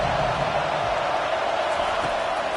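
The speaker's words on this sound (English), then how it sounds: "This crowd bringing the energy and noise early." A football stadium crowd roars in a steady, loud wash of cheering and noise that stays constant throughout, with no individual voices standing out.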